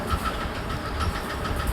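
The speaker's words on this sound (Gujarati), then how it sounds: "આપણે આપણું ટ્રેક્ટર લગાવી દીધું" Tractor engine driving a grass chopper on a farm, a continuous low rumbling drone with faint rhythmic knocking, steady and fairly close.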